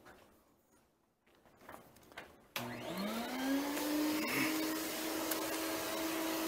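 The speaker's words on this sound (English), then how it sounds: "I'm going to turn on my vacuum." A household vacuum cleaner switches on with a sudden loud burst after some quiet handling noises, its motor spinning up and settling into a steady, close whirring drone.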